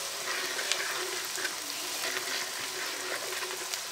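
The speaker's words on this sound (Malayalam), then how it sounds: "ഈ ഇഞ്ചി വെളുത്തുള്ളി പച്ചമുളക് എല്ലാം എണ്ണയ്ക്കകത്ത് കിടന്ന് മൂത്ത്" Ginger, garlic and green chilli fry in hot oil for a beef pickle, giving a steady, fairly quiet sizzle with small crackles throughout and no talking.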